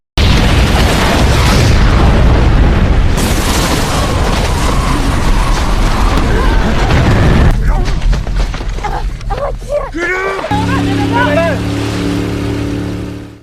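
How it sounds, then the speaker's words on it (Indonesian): Bomb going off together with a missile in an action film, a loud sustained roaring blast rumble that breaks off and gives way to scattered bangs and debris, then a tonal musical swell. "bom itu akan meledak bersama dengan rudal itu"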